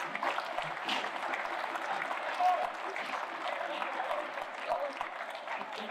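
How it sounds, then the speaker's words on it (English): Crowd applause for the Drumragh team after the Clogher v Drumragh junior championship final, a steady wash of clapping that holds for several seconds at moderate level, with talk mixed in. "So round of applause to Drumragh."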